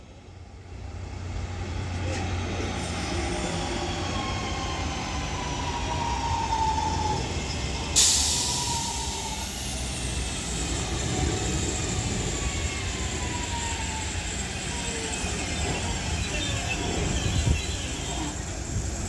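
A class 323 electric train arrives at Heaton Chapel station on the West Coast Main Line, its steady rolling rumble and a rising whine holding close throughout, with a sharp hiss partway through.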